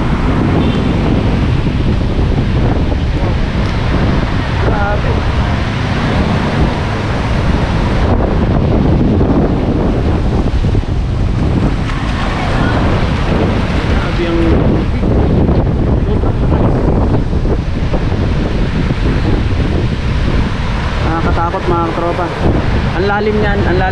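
Floodwater from a river swollen after a typhoon in Sta. Rosa, Laguna, rushes past in a constant loud roar, with heavy wind buffeting the microphone throughout and a voice talking over it.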